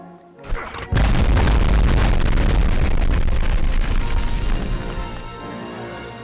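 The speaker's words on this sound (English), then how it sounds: "They throw grenades back." A grenade blows up in the 1999 video game Medal of Honor. A small pop comes first, then one loud, close blast hits at about a second and rumbles slowly away over the next several seconds, with no talk.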